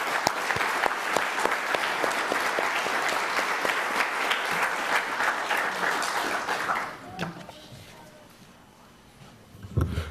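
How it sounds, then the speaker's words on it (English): Hearty applause from an audience honoring award recipients at a police department awards ceremony, dense steady clapping for about seven seconds before fading into quiet room noise. "One more round of applause for all of our award recipients."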